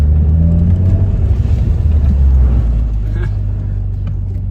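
A Mitsubishi Evo X running and driving, a loud low engine rumble that swells briefly as it pulls, then settles into a steadier drone.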